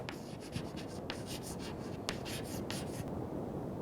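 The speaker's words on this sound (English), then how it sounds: "let me write this" Chalk or marker scratching across a board during a lecture on stick-free aircraft stability, a rapid run of short, dry strokes and taps, close and steady, with no voice over it.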